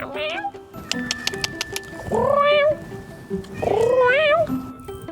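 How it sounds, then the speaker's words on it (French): A cat meows close by on a street corner in Spain, with a few short calls followed by two long drawn-out wails, while people talk quietly around it. "Un chat."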